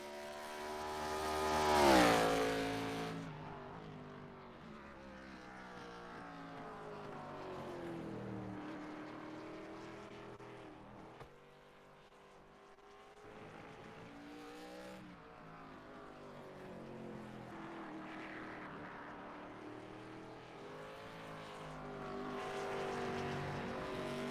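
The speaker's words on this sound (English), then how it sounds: "Some of these cars almost look like they're getting a little bit of air over that hill there" Race cars at Lime Rock Park cresting a hill during qualifying, their engines rising and falling as they pass at a distance, fairly faint over a steady track background.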